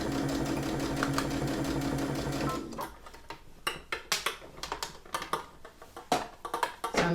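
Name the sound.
sewing machine stitching fabric for a drawstring bag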